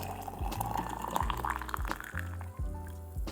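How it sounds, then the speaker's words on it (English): Boiling water pours steadily into a thermos, the gurgling pitch rising as it fills, with a few repeated glugging surges and no voices. "Then pour in boiling water, all the way to the top."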